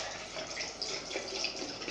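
Water running from a hot water tap, a continuous hissing stream with light splashing, steady and close throughout.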